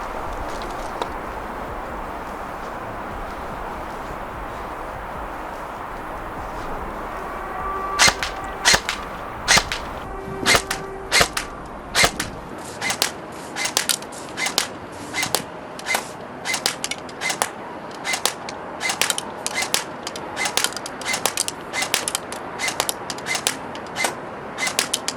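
Kriss Vector gel blaster converted to fire BBs, shooting test shots at a target eight metres away: a few sharp single pops, then a long, steady run of crisp snapping shots over a faint background hiss.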